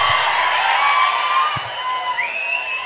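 A crowd at a comedy mimicry show cheers and applauds loudly, with whoops and shouts rising over a dense wash of clapping that stays steady for a few seconds.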